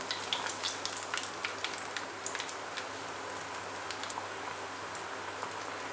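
Chicken coated in Hapima crispy fry mix fries in oil with a continuous soft sizzle and scattered sharp pops and crackles. No one speaks over it.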